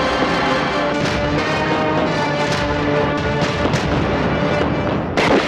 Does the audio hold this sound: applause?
no